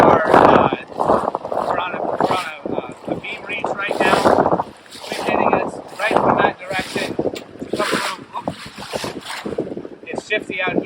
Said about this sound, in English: We're on a beam reach right now. Wind hitting us right